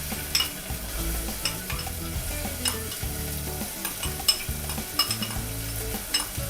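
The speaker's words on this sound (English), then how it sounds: "Now I'm going to add the chopped onions." Chopped onions hit hot oil for a spicy Sindhi-style red chicken curry and sizzle steadily over a low flame, with occasional scrapes and taps of stirring. The cooking sound is close and continuous, with no talking.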